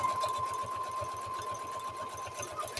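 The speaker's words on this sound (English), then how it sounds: "it just kind of does like a straight stitch, and then it does the other stitch after" A Brother CS-6000i sewing machine runs a stitch in a fast, even, pulsing rhythm, close and fairly loud, with a steady mechanical whir under the needle beats and no speech.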